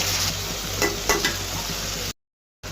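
Chopped tomatoes stir-fried with spices in a pan, a steady close sizzle with a few scraping stirs and light taps, then a short silent gap before frying returns.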